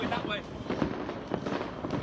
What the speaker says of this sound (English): Oh, it is fireworks then.